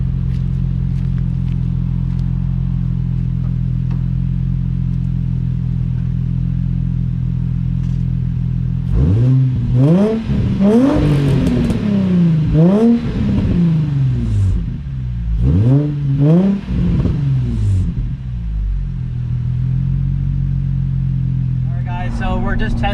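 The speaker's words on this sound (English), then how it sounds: "So let's give it a couple of revs and hear what it sounds like." Nissan 350Z with ISR resonated test pipes, a deep steady idle that breaks into several sharp revs rising and falling, then settles back to idle, close and loud.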